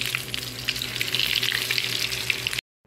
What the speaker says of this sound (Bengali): হাফ মন পাকোড়া ভাজার জন্য আমি এখানে পাকোড়াগুলো দিয়ে দিব